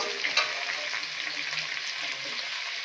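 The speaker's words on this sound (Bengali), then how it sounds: "আলুটা দিয়ে একটু চাপা দেবো, নাড়াচাড়া করে।" Potatoes and onion fry in a pan with a dense, steady hiss and sizzle while being stirred, the spatula scraping softly throughout.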